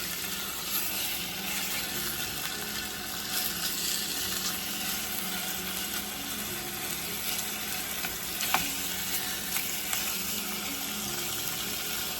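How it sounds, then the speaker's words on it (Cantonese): Pork chops pan-fry in a red-hot wok over medium-high heat, a dense steady sizzle running throughout, close and loud, with a few faint clicks and no voices. "將啲豬扒咧煎下佢"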